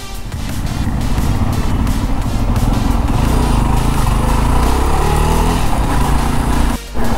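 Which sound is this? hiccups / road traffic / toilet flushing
road traffic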